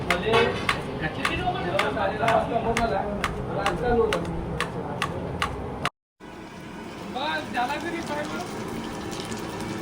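Onions being chopped with a knife during a home meal of chicken curry, rice and salad among friends: a quick run of sharp, regular knife strikes on a board, a brief silent break, then more chopping, with people talking throughout.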